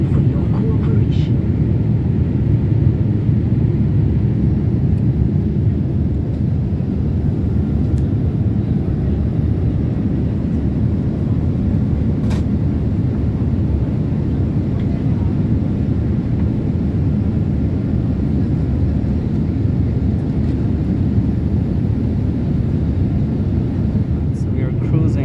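Steady low broadband roar inside the economy cabin of an Air India Boeing 787-8 Dreamliner cruising between Lucknow and Delhi, a constant loud engine and airflow rumble with no breaks.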